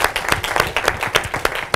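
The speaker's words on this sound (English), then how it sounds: "we can applaud Frank" Audience applause at a finance graduation ceremony, a smallish group clapping in distinct, irregular claps close by, fairly loud.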